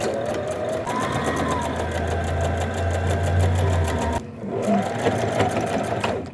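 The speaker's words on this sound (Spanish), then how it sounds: "Como ya tenemos cosida esta primera parte con un falso overlock" A sewing machine runs fast and steady stitching elastic onto trousers with a false overlock stitch, its rapid mechanical chatter continuous and close, pausing briefly before starting up again.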